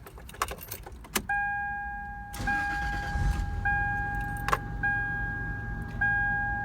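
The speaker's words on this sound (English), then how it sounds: "I'll go ahead and start the engine now." Keys jangle sharply in the ignition of a 2004 Toyota Tacoma with 217,304 miles, chimes ping, then the starter cranks and the engine catches and settles into a steady close idle under repeated dash chimes.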